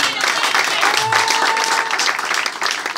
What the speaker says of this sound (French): Applaudissez pour votre pasteur.